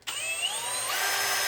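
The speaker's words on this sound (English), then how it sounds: "I'm going to put this back in my drill and see now what happens" A power drill whirs into a plastic 5-gallon hydroponic bucket, a single high-pitched spinning whine that starts abruptly and holds steady, close and loud.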